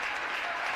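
Basketball crowd at a girls' high school senior night applauds as a player leaves the game, a dense, fairly loud wash of clapping heard only briefly.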